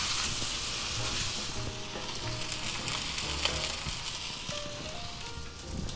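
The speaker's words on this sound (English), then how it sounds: "So we're going to just take our steak, put that right in there, and let her sit." A chuck steak sears in a very hot pan, giving a steady, loud, close sizzle and crackle that continues throughout with no talking.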